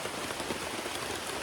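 Heavy rain pours down steadily, a dense, even hiss of drops hitting surfaces with no pauses, moderately loud and close.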